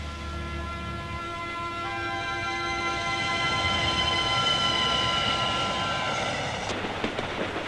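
A moving train rolls past with a steady loud rumble and sustained horn tones layered over it, building toward a sharp clatter near the end, with no voices.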